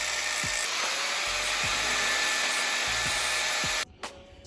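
A power tool cleans metal pieces before welding, giving a loud, continuous high-pitched grinding whir with a few faint knocks underneath, then cuts off abruptly near the end.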